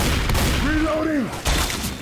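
Left 4 Dead 2 gunfire cracks in a few sharp bursts near the start and again later, mixed with shouting voices and a strained cry in between.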